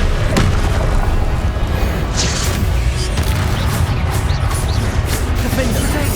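Booming blast of the Confringo spell exploding in the video game Hogwarts Legacy, a loud, dense rumble sustained throughout with crackling hits layered on top.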